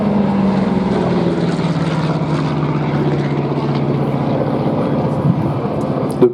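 A Curtiss P-36 propeller fighter flies at the Duxford air show, its piston engine droning steadily and loudly throughout, with a rough, throbbing low hum and a faint thump near the end.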